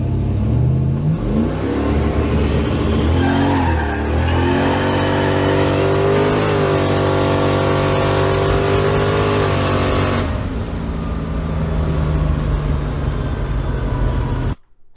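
A turbocharged LS-swapped Fox-body car launches hard at a drag strip in Mexico, its engine roaring loud and close as the revs climb through gear changes, then the note shifts and fades into a steady drone before cutting off.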